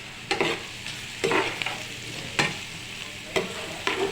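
Curry leaves and onions with green chillies crackling in hot oil, a continuous close sizzle punctuated by about five sharp stirring scrapes at roughly one-second intervals.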